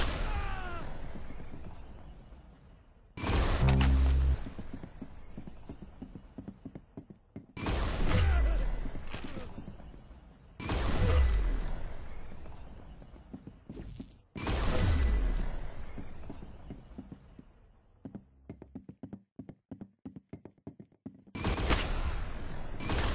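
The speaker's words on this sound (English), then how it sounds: "That's some beautiful shooting right there." Video game gunfire rings out in repeated loud bursts, sharp volleys of shots and heavier blasts separated by short pauses, with brief crackling fire in between.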